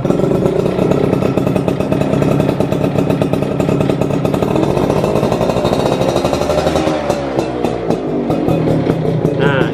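A neglected Caltex motorcycle engine revs up close, with a loud, rapid mechanical rattle and clatter riding over the throttle blips and a rising then falling engine note.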